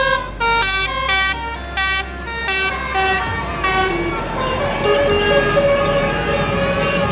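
Bus passing on a road in Pamulang with a telolet horn playing a rapid series of pulsing musical toots, then a sustained melodic horn over engine rumble and traffic, loud and close.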